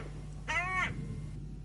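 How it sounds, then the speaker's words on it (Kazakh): A single harsh caw from a hooded crow perched on a post in a house courtyard, moderately near and brief, standing out over a low steady background hum. "сосын кәдімгі қарғаның дауысы қарқылдайды"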